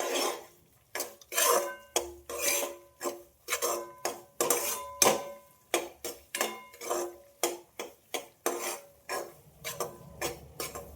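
A utensil stirs grated carrot in a pan on a stove over medium heat, making a rhythmic run of close metallic scrapes and clinks, repeated steadily without voices.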